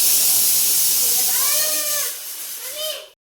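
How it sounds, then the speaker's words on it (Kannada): A sambar tempering (oggarane) sizzles loudly, its hiss strong at first and then dropping away, while a voice is heard over it toward the end. "ಸಾಂಬಾರಿಗೆ ಒಗ್ಗರಣೆ ಹಾಕಿದೆ"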